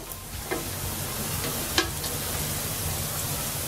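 Onions frying in a pan until crisp like berista for Bangladeshi khichuri, with a continuous close sizzle and a couple of brief stirring clicks.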